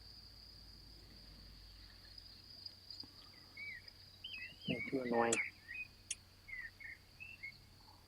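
Crickets chirp outdoors, a faint steady high trill running throughout, with scattered bird calls and a short burst of nearby speech toward the middle.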